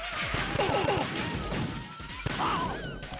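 Repeated gunshots in a Metal Gear Solid boss fight, a quick run of close, punchy shots with crashing impacts, a voice talking faintly underneath.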